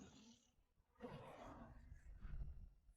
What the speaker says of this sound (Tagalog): Lumabas ka, nag-aalab na leon.